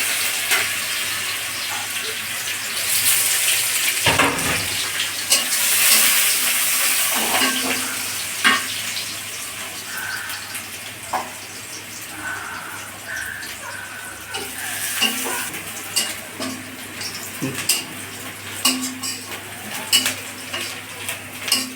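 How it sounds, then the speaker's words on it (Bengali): Onions frying in hot oil with cumin seeds and bay leaves, a steady sizzle running throughout with the clink of a utensil stirring against the pan, close and fairly loud. "জিরা তেজপাতা দিয়ে দিছি। এখন পেঁয়াজ দিয়ে দিলাম,"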